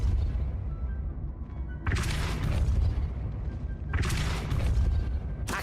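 Depulso repelling spell cast in the video game Hogwarts Legacy: two loud booming blasts land about two seconds apart over busy game ambience.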